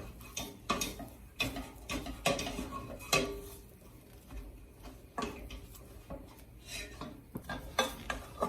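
Semolina dough being mixed in a bowl for tulumba, with a spoon clinking and scraping against the bowl in an irregular run of taps and knocks, close and fairly quiet, with no talk.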